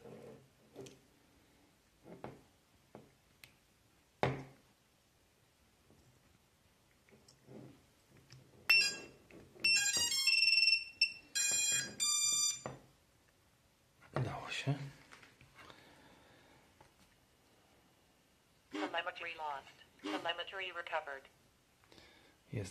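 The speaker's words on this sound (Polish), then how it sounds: "Taki sygnał pik, pik, pik, to znaczy, że jest uzbrojony." Rapid repeated electronic beeps from a Taranis radio transmitter arming an X210V+ quadcopter drone, coming in short clustered bursts indoors between stretches of someone talking.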